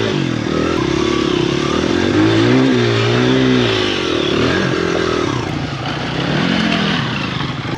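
An enduro motorcycle engine runs strong and steady right up close, with its pitch rising and falling through revs and a little mechanical clatter over a continuous roar.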